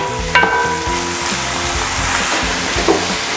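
Chopped ginger sautéing in a pan for chili garlic crab and shrimp, a close, steady sizzle with a couple of brief clinks of a utensil over a low humming background.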